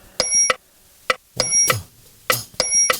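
Metronome clicks in a steady pulse, with a bright ringing bell on some beats and sharp woodblock-like ticks between them.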